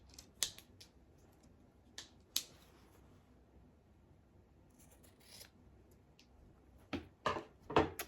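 Fabric is trimmed with scissors while sewing a quilt-as-you-go mug mat, giving sparse, faint crisp snips at irregular intervals, with a quick cluster of cuts near the end in a quiet room.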